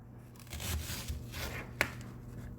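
A knife cuts onions for homemade vegetable soup, making soft, irregular slicing and crunching sounds close by, with one sharper tap partway through and no speech.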